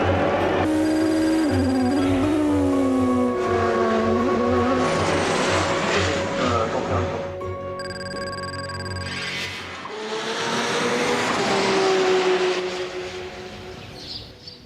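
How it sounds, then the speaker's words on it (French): Race cars surge away from the start of the 24 Hours of Le Mans in 2013, a loud sustained roar of many engines with rising and falling pitches, some whining tones passing close. "And the 24 Hours of Le Mans has now begun. The push is on. Every car surges forward looking for an opening,"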